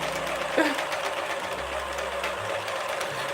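A sewing machine stitching a cloud-themed knit beanie runs at high speed with a steady, fast mechanical whir and rattle, close and continuous throughout.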